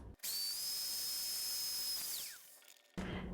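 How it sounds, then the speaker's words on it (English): Vacuum cleaner sucks air out of a clothes storage bag with a loud, steady high-pitched whine and hiss whose pitch drops as it shuts off, followed by a brief pause and another burst of noise. "Now let's undo the valve and start vacuuming again."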